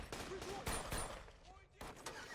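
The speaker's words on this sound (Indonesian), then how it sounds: "Terjadilah aksi baku tembak antara anak buah Vigo dengan John." Shootout gunfire from a John Wick action film, John against Vigo's henchmen with a long rifle, sharp loud bursts of several rapid shots mixed with film sound and voices.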